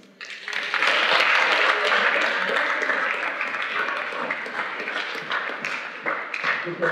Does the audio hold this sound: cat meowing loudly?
no